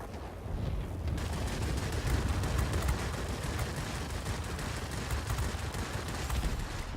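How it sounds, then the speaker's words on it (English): Heavy fighter gunfire in the World of Warplanes video game during a dogfight, involving a Japanese Kawasaki Ki-61 Hien fighter, comes as a dense, continuous rattle of shots and explosions for the whole stretch, loud and steady with no talking. "trying to avoid that heavy fighter fire coming in"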